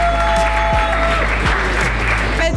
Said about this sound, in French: On applaudit Avialis.